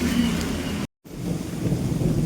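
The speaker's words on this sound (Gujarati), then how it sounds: "પાછો વરસાદ આવી ગયો" Unseasonal rain pouring steadily at home, a dense continuous hiss with low rumbling thunder, broken by a brief total gap before the downpour resumes.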